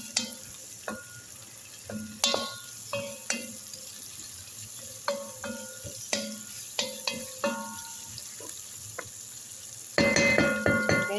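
Squid adobo frying in a pan while being stirred, repeated scraping and clinking of a utensil against the pan at an irregular pace over a soft sizzle, growing louder and busier toward the end.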